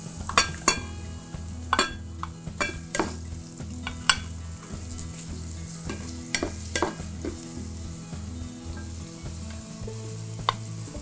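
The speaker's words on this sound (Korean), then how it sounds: "이제는 준비된 채소를 넣고 볶으시면 되거든요" Vegetables sizzle in a hot pan with garlic while a utensil stirs and scrapes, giving steady sizzling broken by frequent clinks and taps against the pan, with no talking.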